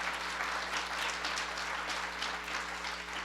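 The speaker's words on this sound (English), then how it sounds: "You can clap for Microsoft." An audience claps at a corporate event, a steady, even wash of applause that stays fairly quiet and distant throughout, with a low electrical hum beneath it.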